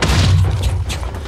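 An exploding sword in the Minecraft video game sets off a loud, dense booming blast that fills the whole moment, heavy and rumbling with a crackling edge.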